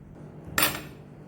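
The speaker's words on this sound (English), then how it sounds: "here I have one small onion which I'm slicing it" A kitchen knife cuts through one small onion on a board, producing a single sharp crunchy slicing stroke that rises quickly and then fades, up close and alone, with no talking.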